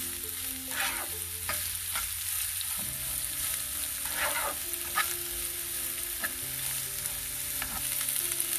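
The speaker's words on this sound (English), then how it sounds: "onions, capsicum, saute these a little bit." Onions and capsicum sauté in a hot pan, giving a steady sizzle with occasional stirring scrapes throughout, close and alone with no voices.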